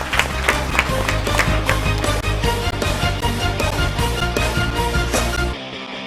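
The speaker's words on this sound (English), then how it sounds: "Give him a round of applause." Audience applause for a student contestant at a school competition, a dense, steady burst of clapping that fills the room for several seconds before cutting off abruptly.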